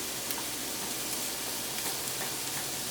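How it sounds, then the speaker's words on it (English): Steady, even sizzling fills the clip, a constant crackling hiss like food frying in a hot pan, with no voices. "let it kind of not roast but sizzle by itself"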